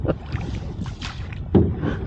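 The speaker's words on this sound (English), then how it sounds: "We'll let Rebecca row for a little bit." A small rowboat is rowed on open water on a windy day, with oar strokes and water splashes sounding close over a steady rumble of wind against the microphone.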